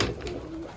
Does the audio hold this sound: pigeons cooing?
yes